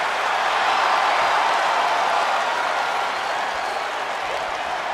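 A steady roar of an arena crowd cheering during a wrestling match in WWE 2K25, a broad, sustained wash of noise with no clear breaks, moderately loud and constant.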